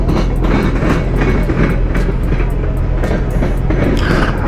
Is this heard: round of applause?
no